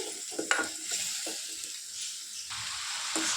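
A cauliflower fry being stirred in a pan with salt and chilli powder added, giving a low steady sizzle under scattered scraping and clinking strokes of the spoon, close and continuous, with no one talking.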